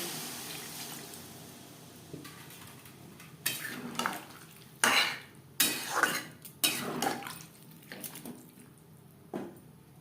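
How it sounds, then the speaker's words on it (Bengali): Water being added to a pot while cooking a Bengali rui fish curry with maan kochu, clattering pot and utensil knocks with bursts of splashing and pouring, close and without talk. "এই পর্যায়ে দিয়ে দেবো জল।"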